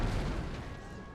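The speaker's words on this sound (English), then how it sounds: "My cannons are firing." Cannon artillery fire in the Napoleonic-era strategy game Napoleon: Total War, a dense rumbling volley of booms that fades slightly over a brief moment, steady and distant-sounding.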